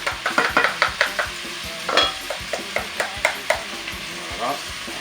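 Rice added to a pot with potatoes, sizzling in the hot pot while a utensil stirs and taps, producing a run of close, rhythmic scraping clicks over a steady frying hiss.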